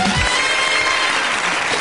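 A German TV studio audience applauds steadily as Lower Saxony's Minister-President David McAllister makes his entrance on a late-night satire show, a dense, even wash of clapping with no voices.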